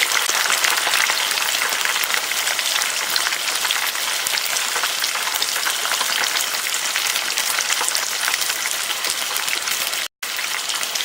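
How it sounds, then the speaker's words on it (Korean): Fish pieces bubble and crackle continuously as they deep-fry in oil, a dense, even hiss that barely changes, with a brief cut near the end. "이렇게 해서 이제 바삭바삭하게 튀겨주고요"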